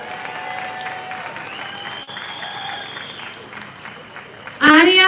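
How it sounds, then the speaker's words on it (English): Rally crowd outdoors in Glasgow applauding for artist Kirsty Heggie, a steady wash of clapping with cheers under a speaking voice, then a loud close burst near the end. "Yeah, round of applause for Kirsty."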